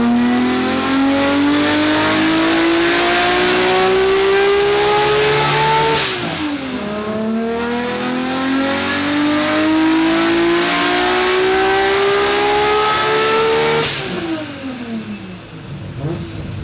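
Nissan R32 GT-R with a 3.6 litre billet engine and Garrett G45 turbocharger pulls on a dyno, its note climbing steadily in two long, loud runs, each ending in a sudden drop as the throttle lifts.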